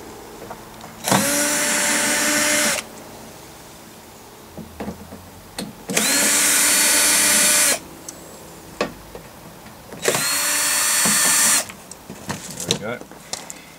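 A power drill removes screws from the side panel of an AEG/Whirlpool heat pump tumble dryer, in three loud, steady whirring bursts of about one to two seconds each, separated by clicks and handling noises.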